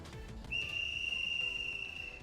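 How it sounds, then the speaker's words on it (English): A single sustained shrill whistle blast sounds from a little distance away, holding steady for over a second and a half before cutting off, fairly faint over a quiet background. "the sound of a whistle resounded from a little distance away."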